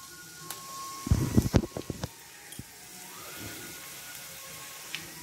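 Chopped onions drop into a pan of hot mustard oil already holding garlic and chili for a spinach dish, with a brief cluster of sharp clattering hits followed by a soft, fading hiss.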